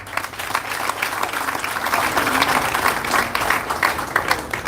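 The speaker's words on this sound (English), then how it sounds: "give a thunderous hand clap to our parliamentary team" Thunderous applause from a large crowd at a political rally honoring a parliamentary team, a dense and steady wall of clapping that carries through without pause.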